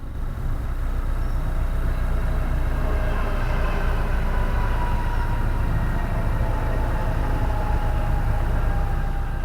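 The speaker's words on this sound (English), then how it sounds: "There's a train line that runs parallel to the canal down here, so you get quite a lot of train noise." A train rumbles steadily along a railway line running parallel to the Grand Union Canal near Fenny Stratford on a winter day, a loud continuous low roar and rattle with no break.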